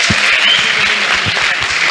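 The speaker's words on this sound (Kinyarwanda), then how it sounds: "Komere Yesu amashyi menshi cyane, menshi rwose." Applause at a church testimony gathering: a congregation claps loudly and steadily throughout, dense and continuous, with no voices standing out.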